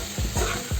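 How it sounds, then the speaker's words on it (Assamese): Chicken pieces fry in a pan while being stirred, giving a soft sizzle broken by three quick, rhythmic scraping strokes, quiet and close, with no talk. "ভাজি ল'ম চিকেনখিনি অলপ সময় ঢাকি পেলাই।"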